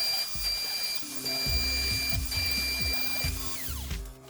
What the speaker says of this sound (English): Started the router, pressing it down to go half the depth of the board for the first pass.